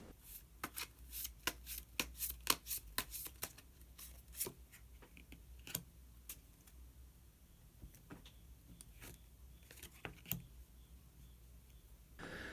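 Tarot cards are shuffled and drawn by hand, giving a quick run of crisp papery riffles and snaps, then scattered softer flicks and slides, close and fairly quiet with no talking.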